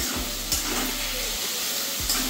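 Potatoes fry in white oil for chowmein, giving a continuous close sizzle and hiss with a low hum underneath and a couple of brief stirring clatters.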